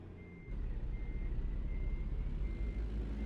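Reversing beeps from a truck in American Truck Simulator, a steady high repeating tone over a loud, continuous diesel engine rumble that swells in after a brief quiet start.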